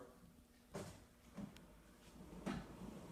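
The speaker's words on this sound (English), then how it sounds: "Okay, so we have installed this little pocket door" A small, newly installed wooden pocket door with no handles yet slides in its track, giving a few soft, faint rumbling strokes with brief bumps against a quiet room background.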